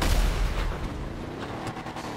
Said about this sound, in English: Ooh, a tank.